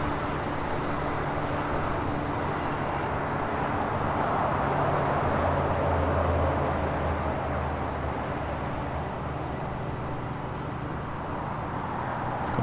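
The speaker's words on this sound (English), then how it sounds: "the Lufthansa King now making that left-hand turn onto Lima" A Lufthansa Boeing 747 taxis at LAX, turning onto taxiway Lima, heard as a steady, broad engine rumble and hiss that holds level from start to finish.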